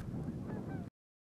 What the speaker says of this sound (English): there were geese all over in the air around us